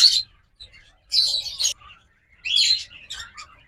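Yellow-collar cheek mask lovebirds give three bursts of bright, sharp chirping close by, separated by brief pauses, with no voices.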